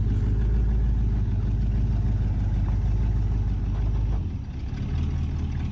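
A 1958 Chevy Biscayne hot rod engine idles in gear with a deep, steady, loud rumble that sags briefly near the end before settling again.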